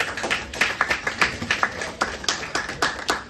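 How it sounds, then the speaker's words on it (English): A crowd at an award presentation claps in a round of applause for single mothers, a dense patter of hand claps with rhythmic peaks, moderately near and steady throughout. "round of applause for the single mothers"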